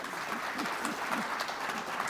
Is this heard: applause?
yes